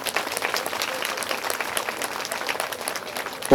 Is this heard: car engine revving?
no